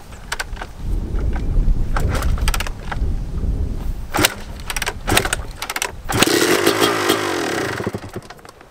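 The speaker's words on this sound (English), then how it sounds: "We've got the jet fuel in the KX250. Probably gonna take a few tries to get this thing started." A Kawasaki KX250 two-stroke dirt bike running on jet fuel is kicked over repeatedly with clattering thumps and knocks, then catches and briefly revs in a raspy, loud burst before fading.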